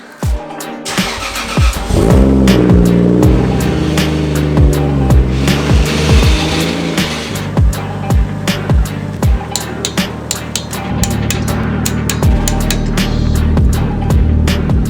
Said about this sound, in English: I'll reverse the car out so we can have a proper look at it.